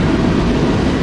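A heavy coal freight train labors up a mountain grade, giving off a steady, dense low rumble that stays loud and unbroken throughout.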